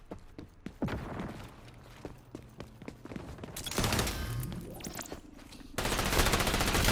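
Gunfire in the XDefiant shooter game, bursts of rapid shots crackling close and loud, with rattling bursts and clattering in between, no talk.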